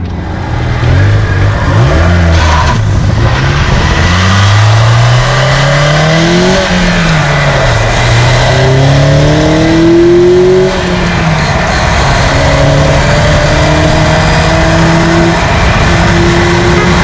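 A Honda Acura car drives at roughly 50 to 70 mph with a bad shimmy and wobble vibration, its engine droning loud and close as it climbs through gears, with road roar and shaking underneath.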